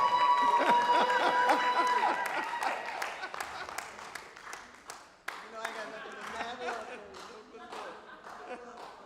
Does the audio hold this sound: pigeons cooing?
no